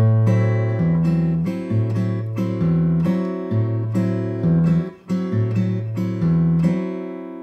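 A guitar strums a Latin jazz chord progression in a syncopated rhythm, with bright chords changing in regular succession and played alone at close range.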